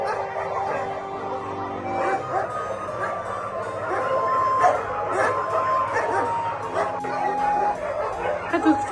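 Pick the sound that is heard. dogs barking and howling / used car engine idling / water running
dogs barking and howling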